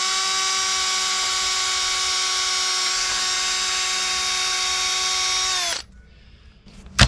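A power drill boring a hole to pass garden wire through runs at a steady high whine for about six seconds, close and loud, then stops abruptly, followed by faint handling noises and a brief knock.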